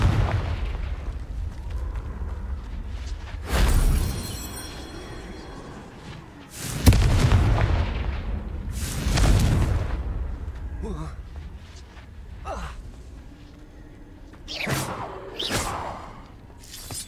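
Confringo fire spell explosions in the Hogwarts Legacy video game, several loud booming blasts spaced across the stretch, with someone speaking over the game sounds between them.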